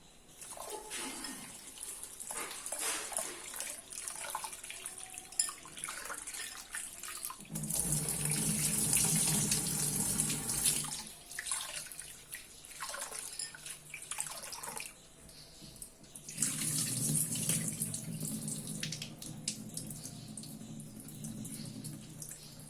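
Tap water runs into a sink in three long bursts as wheat semolina is rinsed and swished, with quieter dripping and handling sounds between the streams.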